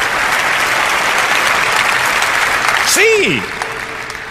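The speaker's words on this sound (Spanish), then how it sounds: "Que alguien me dé un aplauso más grande que ese" A large stadium crowd at an evangelical gathering bursts into loud sustained applause that fills the space, dropping off near the end as a voice speaks over it briefly.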